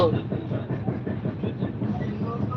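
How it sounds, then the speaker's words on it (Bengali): Interior of a moving train, with a steady rumble and rhythmic wheel clatter heard from inside the carriage and no talk. "ট্রেনে রয়েছি তো"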